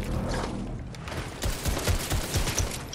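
Rapid gunfire from a new weapon in Fortnite, bursts of sharp cracks and thumps that start after a brief lull and continue in quick clusters, loud and close.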